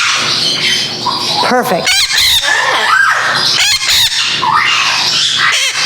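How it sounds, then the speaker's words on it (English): An Amazon parrot squawks and screeches in loud, harsh bursts close by, several rasping calls in an irregular rhythm, mixed with a person speaking briefly. "you heard my Amazon going, rah!"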